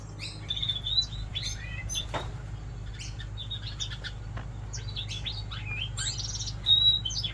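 Gouldian finch fledglings sitting in the sun give scattered high, thin chirps and tweets, some close and clear, others fainter, over a steady low hum, with a brighter burst of calls near the end.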